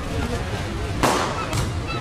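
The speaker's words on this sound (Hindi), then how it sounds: "ये आतिशबाजी अगर बंद हो सकती है तो बंद कर दो" Fireworks bursting outdoors during a speech event, with two sharp cracks about half a second apart standing out over a continuous amplified voice.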